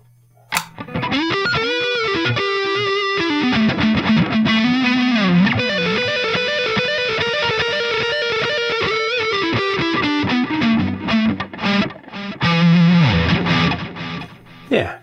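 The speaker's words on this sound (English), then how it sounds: "Let's go for the ping pong effect." Distorted metal riffing on a Telecaster electric guitar played through a Roland Jazz Chorus amp with stereo ping pong delay, loud and sustained with bouncing repeats, alone without talk.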